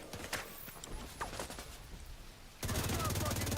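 An engineer's deployable turret firing in the video game The Division 2 opens up abruptly partway through, a loud, rapid, evenly pulsed stream of automatic shots following scattered earlier gameplay noise.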